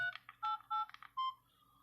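A quick run of mobile phone keypad beeps, short distinct tones pressed one after another, close and clear with a quiet background.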